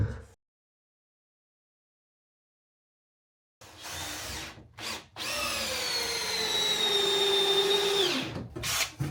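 A power drill drives screws into wood in a workshop being built, with one whirring run that rises and slows as the screw seats, after a short burst and a long silence.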